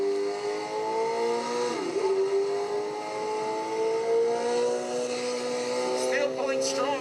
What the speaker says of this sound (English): 2020 BMW S1000 RR in the rain now.